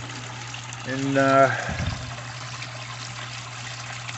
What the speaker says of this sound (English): nice and level, water's coming out perfect.